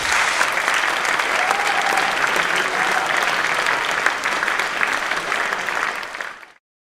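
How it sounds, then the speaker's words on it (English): Audience at a hackathon closing ceremony applauding the finalists: dense, sustained clapping from a large crowd that holds steady for about six seconds, then cuts off abruptly. "applause to all the finalists"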